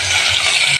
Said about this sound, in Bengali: সবগুলো সবজি দিয়ে দিচ্ছি বন্ধুরা।